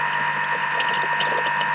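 A grinder steadily grinding sugar for meringue gives off a continuous whirring, ratcheting mechanical drone at a constant level, with no one talking over it.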